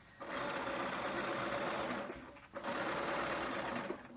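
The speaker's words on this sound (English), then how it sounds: "Put that into the machine and sew all the way across." Sewing machine stitching across frame bag fabric, a close, steady mechanical whirr running in two bursts with a short pause between.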